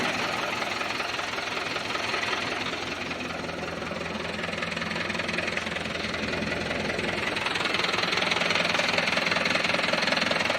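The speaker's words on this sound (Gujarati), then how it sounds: "બે હજાર સોળ મોડલ મહેન્દ્ર ચારસો પંચોતેરનું એન્જિન આવે" Swaraj 841 XM tractor fitted with a 2016 Mahindra 475 engine, running steadily with a low, knocking diesel chug that stays loud and close throughout and builds slightly toward the end.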